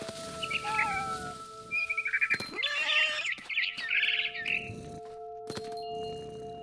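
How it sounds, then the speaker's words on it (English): Barn swallow chirping near its nest in What Remains of Edith Finch, bright rapid twittering bursts over a quiet ambient hum, broken by a few sharp clicks and knocks, with no talking. "Then I heard chirping outside my window. It was a barn swallow going back to her nest."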